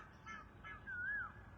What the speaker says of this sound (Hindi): कोयल बोल रहा है।